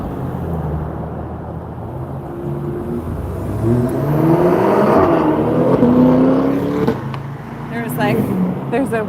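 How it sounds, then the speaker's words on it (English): A car engine rises and passes nearby, its tone sweeping and fading, while people talk over the steady background hum. "There's a white car that's been just cruising all night."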